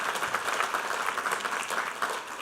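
A church congregation applauds at a Sunday worship service, a dense, steady wash of clapping from many hands filling the room, with no talk over it.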